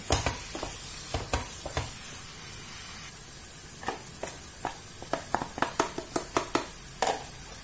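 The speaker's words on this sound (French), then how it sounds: "on va le laisser encore mijoter 5 petites minutes" Red cabbage cooking in a pan for a warm cabbage salad, with a steady soft sizzle and a series of sharp utensil scrapes and stirring clicks, sparse at first then quickening toward the end.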